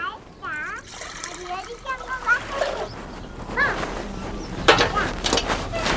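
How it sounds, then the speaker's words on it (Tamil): A litre of water is poured into a cooking pot on a lit stove, splashing and sloshing on and off under steady talk and a voice. "தண்ணி சேர்த்து வைக்கணும் நான் ஒரு லிட்டர் தண்ணி வைக்கிறேன்"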